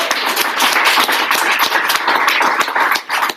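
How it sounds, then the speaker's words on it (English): A seated audience at a stress-management talk bursts into dense, sustained applause, many hands clapping loudly and continuously, close and lively, with no voices over it. "Give Tracy a round of applause."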